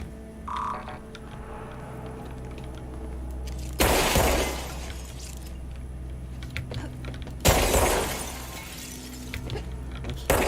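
Shots striking glass in the action game Control: two sharp, loud crashing impacts several seconds apart, each trailing off into a brief shattering tail over low game ambience.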